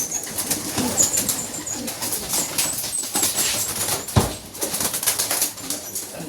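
Racing pigeons come in at the loft during a derby race in Gumaca, Quezon: a busy outdoor scene of close wingbeats and flapping bursts with faint cooing, plus one sharp knock partway through.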